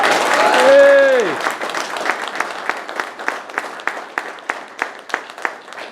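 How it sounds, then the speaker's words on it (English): An audience at a military police brigade social applauds a company commander: a loud drawn-out voiced shout opens, then settles into slow, evenly spaced rhythmic claps, close and distinct. "So give your company commander, please, a round of applause."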